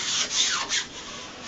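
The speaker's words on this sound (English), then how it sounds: "you just want to take your squeegee" A squeegee drawn across a wall wrap during installation makes a soft, close rubbing swish in a few short strokes, with no speech.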